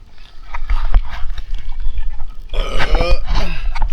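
A parked speedboat with a big engine, heard as a loud rough rumbling drone with chugging low pulses and some sputtering bursts, close by and fairly harsh throughout.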